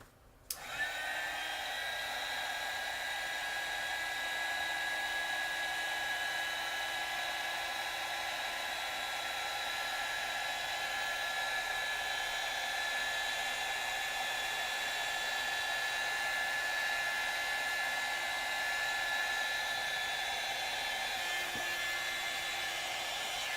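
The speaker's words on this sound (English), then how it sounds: "So let's just take our heat tool." A heat tool blowing hot air across alcohol marker ink on paper, switched on abruptly and then holding a steady, close, whining whoosh for over twenty seconds with no talking.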